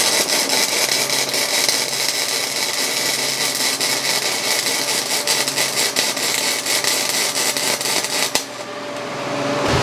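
YesWelder MIG 205-DS running a test weld with wire feed set to 198 and about 19 volts, a loud, steady crackling buzz that carries on for about eight seconds and then cuts off abruptly.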